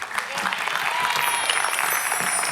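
Studio audience applauding contestants on an Indonesian family game show, a steady dense wash of clapping with cheering voices mixed in throughout.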